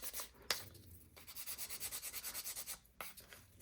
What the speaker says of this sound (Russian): можно даже ее простой вот пилкой для ногтей